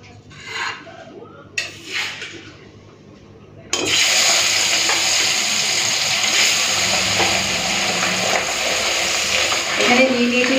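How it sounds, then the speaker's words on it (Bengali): Pabda fish drop into hot oil in a wok after a few brief clatters, setting off a loud, steady, close crackling sizzle that continues unbroken. "চলুন মাছটা ভেজে নিই।"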